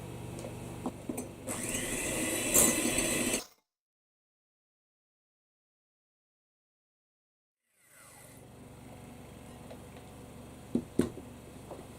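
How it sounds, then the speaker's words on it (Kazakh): An electric mixer whisking egg whites with sugar at high speed whirs loudly, cuts out into a few seconds of silence, then resumes at a lower, steady hum with occasional clinks. "жоғарғы скоростьпен ары қарата миксермен араластырдым"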